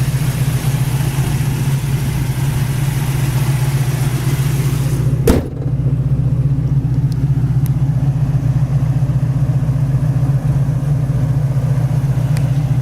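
Engine of a 1969 AMC AMX running steadily, a loud, close, low rumbling idle that holds evenly throughout with one brief click partway through, no talking.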